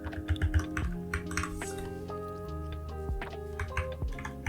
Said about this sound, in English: then I'm going to use my arrow keys